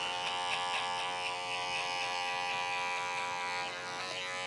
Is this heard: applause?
no